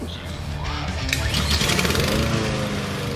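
A petrol lawn mower pulls into life and keeps running with a steady buzzing drone, fairly close, ahead of mowing a lawn being cut back during a late-summer dethatch; there is no speech over it.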